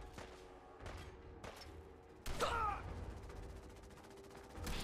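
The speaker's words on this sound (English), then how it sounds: "Someone's shooting at us now." Gunfire from a firefight in Fallout 4, with a few sharp shots spaced apart and one louder, closer burst near the middle, set against a low ambient game background.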